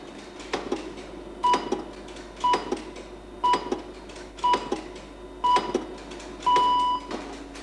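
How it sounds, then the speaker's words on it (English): Six short, evenly spaced radio time-signal pips, one per second, each a clean steady tone over faint background hiss, with the final pip held noticeably longer. "The standard second is the time interval between the start of each of these bleeps."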